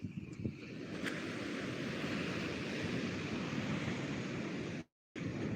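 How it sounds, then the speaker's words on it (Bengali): Big sea waves surge at Digha beach at night, a continuous roaring wash of surf mixed with gusty wind buffeting the microphone. The sound cuts out briefly near the end. "এই দেখুন এই দেখুন কত বড় ঢেউ কত বড় ঢেউ"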